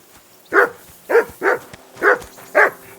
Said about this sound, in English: Whistle to that dog! Come here! What's all the fuss about, Mutt?